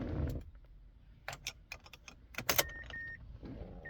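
A car key jingles and clicks as it is turned in the ignition switch of a car fitted with a chip key, making a run of small metallic ticks, faint and close, ending with a short electronic tone.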